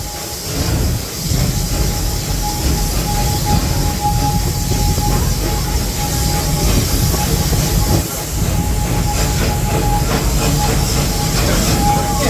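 Serengeti Express park train at Busch Gardens Tampa rolls along with a steady close rumble and hiss of wheels and carriages, a faint sustained tone running through it.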